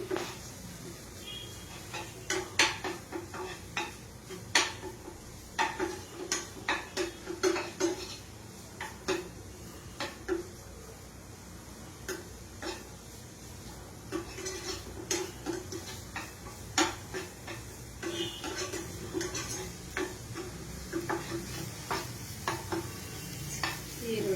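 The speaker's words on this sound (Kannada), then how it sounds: "ಚೆನ್ನಾಗಿ ಸ್ವಲ್ಪ ಗೋಲ್ಡನ್ ಬ್ರೌನ್ ಆಗೋವರೆಗೂ ಫ್ರೈ ಮಾಡ್ಕೊಳ್ಳೋಣ." Chopped onions frying in a pan toward golden brown: a steady low sizzle under repeated scraping and tapping of a spoon against the pan, close and irregular in rhythm throughout.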